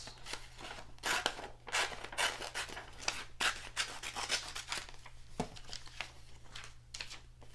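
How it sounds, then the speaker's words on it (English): Scissors snip close up through paper cut-outs for a late-fall collage, a quiet run of crisp, uneven cuts and rustles with short gaps between strokes, no talk. "I'm gonna cut this one out."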